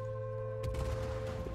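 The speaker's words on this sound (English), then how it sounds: "Taking missile hits." Missiles strike a large ship in the Star Citizen space combat game, a sudden rumbling burst of impacts that lands over a steady engine hum and then keeps rolling as a dense crackle.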